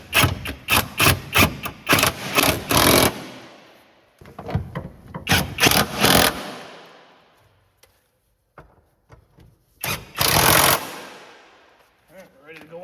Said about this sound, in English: I'm just gonna go hit those with the impact gun for a quick second